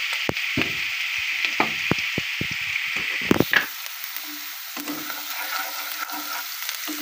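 Ginger, garlic, turmeric and chili fry in a hot pan with a loud, close crackling sizzle and repeated sharp stirring taps, the hiss easing partway through.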